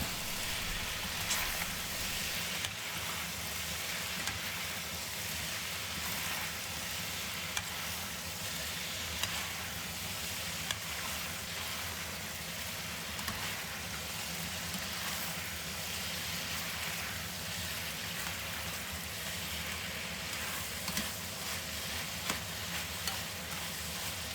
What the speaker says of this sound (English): Add brown sugar. Keep stirring.